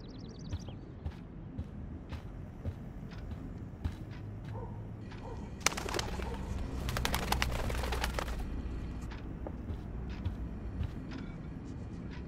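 Pigeon in the Life Is Strange video game, soft repeated cooing over a quiet indoor room tone, with a burst of loud wing flapping and fluttering in the middle before settling back to faint coos.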